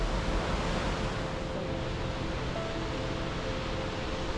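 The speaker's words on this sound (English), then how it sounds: "I can see the top of the waterfall right over there" Steady broadband roar of rushing water from a waterfall in the Yosemite backcountry near the Grand Canyon of the Tuolumne, a constant wash of noise with no talk, heard from some distance.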